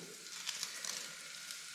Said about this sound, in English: Now you see that starts sizzling right away.